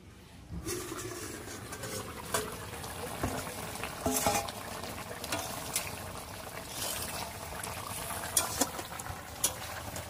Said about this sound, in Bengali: বন্ধুরা এবার চাপা দিয়ে আমি 10 মিনিট মতন ফুটিয়ে নেব।